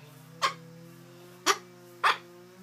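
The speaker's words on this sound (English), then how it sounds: "Are you barking?" Three sharp, short dog barks spaced irregularly over a steady low hum, fairly close and moderately loud.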